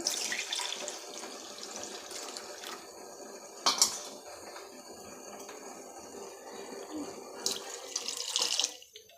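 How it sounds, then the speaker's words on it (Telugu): Milk pours steadily into a pan for tea with a continuous splashing hiss, a brief clatter midway, and a louder rush near the end before it stops. "గ్లాస్ పాలు పోసుకోవాలి"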